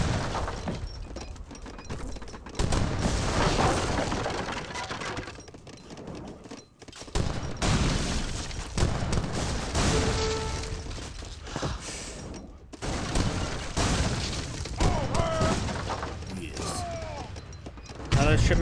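Rapid bursts of cannon fire and crackling impacts pile up in a dense, chaotic battle din in Age of Empires 3, culverins firing a volley, with a voice talking over the clatter.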